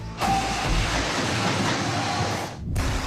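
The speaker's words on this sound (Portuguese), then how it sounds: "Ela precisa encarar o trem." A commuter train gives off a steady, loud rumbling roar that holds for a few seconds and then cuts out abruptly just before the end.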